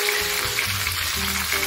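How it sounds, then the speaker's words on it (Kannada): Mustard seeds fry in hot oil in a pan while a North Karnataka-style tomato curry is started, giving a steady, close sizzle and crackle with no talking. "ಬಾಣಲೆಗೆ ಎಣ್ಣೆ ಹಾಕೊಂಡು ಇದಕ್ಕೆ ಸಾಸಿವೆ ಹಾಕಿದ್ದೀನಿ."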